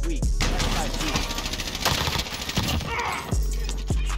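Rapid automatic gunfire rattles in a Warzone zombie event match, loud dense bursts with a few sharp single shots, under excited talk.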